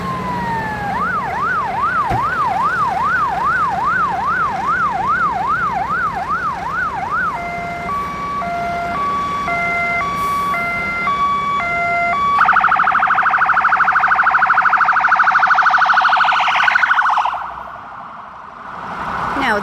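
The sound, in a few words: emergency vehicle siren passing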